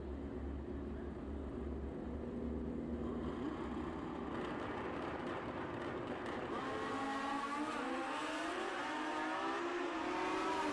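Supercomp drag race cars launching and roaring down the lanes at the Fuel Tech World Finals, a continuous distant engine drone with rising, sweeping pitch as the cars accelerate away.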